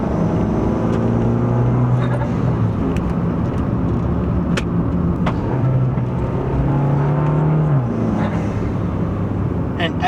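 A 2015 Fiat 500 Abarth fitted with a big turbo revs in traffic, its engine droning and rising in short pulls, close and fairly loud under a person talking.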